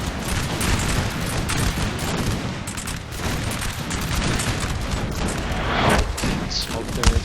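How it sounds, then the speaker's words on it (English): A line of muskets fires volleys in Napoleon Total War, British versus French infantry. Dense crackling shots overlap continuously into a loud, rolling battlefield roar throughout. "The whole line begins to fire at each"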